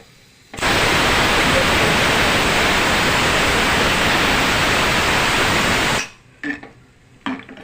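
Tamarind water pours into a cooking pan in one loud, steady rushing stream lasting several seconds, then cuts off, leaving a few faint clinks and small kitchen noises.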